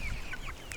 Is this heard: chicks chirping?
yes